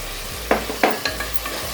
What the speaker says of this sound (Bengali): লো করে আমি এখানে দেখো 2টো টমেটোকে একদম ছোট ছোট করে পিস করে রেখেছি, আমি এই 2টো টমেটোকে এর মধ্যে দিয়ে দিচ্ছি।